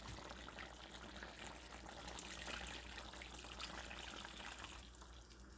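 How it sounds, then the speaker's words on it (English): Steady pouring of hot water into a pot of curry cow foot with butter beans, a continuous splashing gush that runs for several seconds before easing slightly at the end. "Just going to add a little more water."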